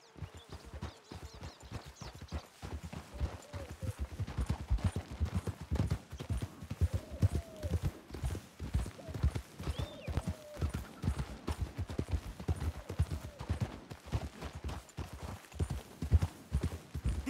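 Continuous clip-clop of several horses' hooves walking at an even pace in Red Dead Redemption 2, close by, with a faint whinny mixed in.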